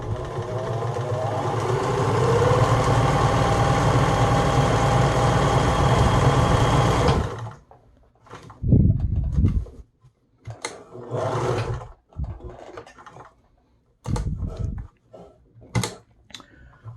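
A Bernina 811 sewing machine sews a blind hem stitch, a loud steady mechanical whir running for about seven seconds before stopping, followed by short handling clicks and rustles.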